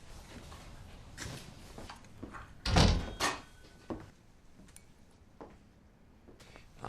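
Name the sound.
door bursting open as men enter a diner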